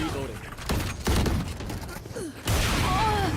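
Gunfire from a Valorant match at a VCT Americas pro esports event: loud broadband bursts about one and two and a half seconds in, over a busy bed of game effects, with voices likely mixed in.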